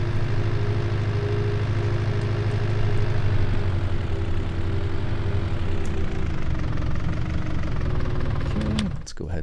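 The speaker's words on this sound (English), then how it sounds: "looks like the combine's heading back in our direction" A combine harvester engine in the Farming Simulator 19 video game drones steadily at a deep, even pitch throughout. It cuts off abruptly near the end, and a voice can be heard faintly over it.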